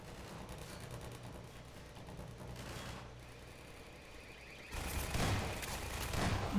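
Automated turrets fire in Half-Life 2 combat: dense, rapid bursts of gunfire that grow louder and heavier near the end, over a steady background rumble.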